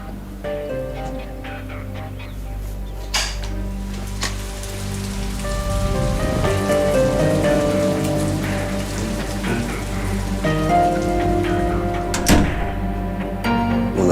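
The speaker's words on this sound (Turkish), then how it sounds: "Yağmur mu yağdı?" Steady rain pattering on a surface, with scattered drips and a couple of soft knocks, growing slightly heavier midway.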